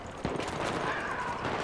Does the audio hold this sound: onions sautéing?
no